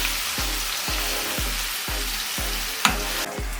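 Fish pan-frying in oil with a steady, dense sizzle throughout, broken by a regular series of soft low thumps about every half second and one sharper clink near the end.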